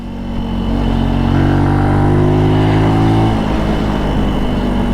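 Benelli Tornado Naked T125 motorcycle cruising at moderate speed, its engine humming steadily and loudly up close with a rising tone, then easing off as revs drop near the end.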